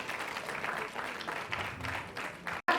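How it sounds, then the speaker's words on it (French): Applause from an audience at a Fohow-Foherb conference in Benin, a fairly faint, steady wash of clapping that cuts off abruptly near the end. "Merci, merci pour les acclamations."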